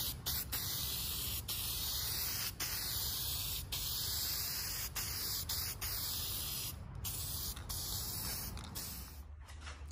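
Aerosol spray paint hissing steadily as a second coat goes onto a part from a John Deere LA135 lawn tractor, close and continuous with brief clicks and pauses of the nozzle throughout.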